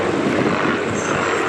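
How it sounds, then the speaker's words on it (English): A vintage propeller aircraft engine turning a two-bladed fixed-pitch wooden propeller, at the Duxford Flying Legends airshow, as a steady, loud, even drone heard alone. "These engines were bolted to wooden propellers"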